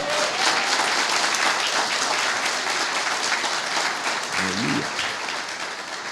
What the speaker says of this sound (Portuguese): Se você acredita, aplauda bem forte ao Senhor.